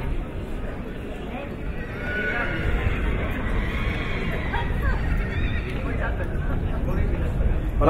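An AQPS horse walks at a French sales show, its hoofbeats faint under steady crowd noise and a commentator speaking over a loudspeaker.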